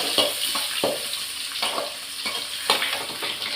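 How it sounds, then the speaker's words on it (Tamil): Mustard seeds spluttering in hot oil while cooking a mango kulambu, a loud continuous sizzle with sharp popping bursts close by, no talk. "கடுகு பொடியுது."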